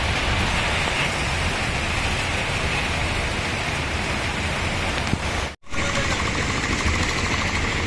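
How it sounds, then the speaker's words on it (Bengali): Steady heavy rain pouring down in a continuous dense hiss, loud and close, briefly cutting out for an instant before resuming. "বৃষ্টি চলছে"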